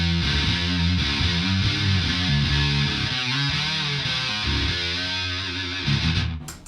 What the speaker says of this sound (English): So we can talk about distortion pedal.